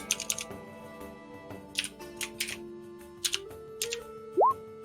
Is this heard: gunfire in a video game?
no